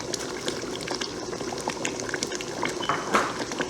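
Washed fish going into a pot of bubbling egusi soup, a steady close simmering hiss and bubble with small splashes and clinks throughout.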